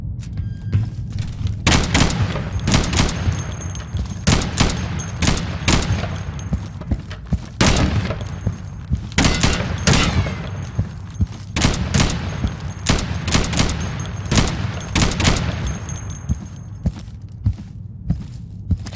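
Repeated bursts of rifle and automatic gunfire echo through a warehouse during a training mission in the tactical shooter Insurgency, with loud shots spaced irregularly, some fast volleys, and footsteps between them.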